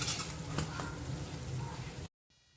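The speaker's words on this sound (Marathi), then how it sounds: "थोडे मसाले परतून घ्यायचे तेलावर" Spices sauté in hot oil for a flat bean valor papdi sabji, a steady close sizzle with a couple of spoon taps, cutting off abruptly near the end.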